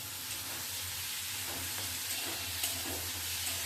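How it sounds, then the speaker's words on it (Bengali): Spice paste fries in oil with fried potato and pointed gourd pieces, giving a steady, close sizzle and hiss that continues evenly with faint stirring. "আলু আর পটল দিয়ে মশলাটাকে ভালো করে ভেজে নিতে হবে"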